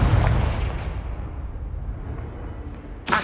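A Confringo fire-blast spell explodes in Hogwarts Legacy: a deep, loud boom that rumbles and slowly fades, followed by a sharp crack near the end.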